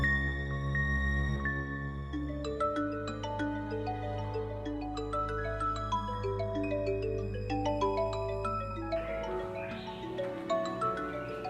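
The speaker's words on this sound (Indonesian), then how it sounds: "handphonenya bunyi tuh" A mobile phone ringtone plays a repeating electronic melody of clear stepped tones, loud and continuous, with a brief noisier burst near the end.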